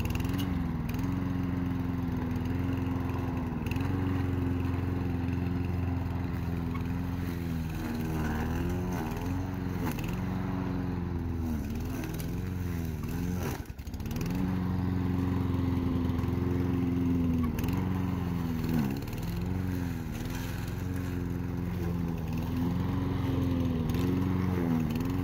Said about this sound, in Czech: s vám ukážu, co ta sekačka dává